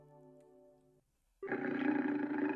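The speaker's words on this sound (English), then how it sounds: "A pack of wolves? You gotta be kidding me." Wolves growl in the Trails in the Sky video game, a steady low rumble that breaks off, then returns as a louder, harsher snarling roar.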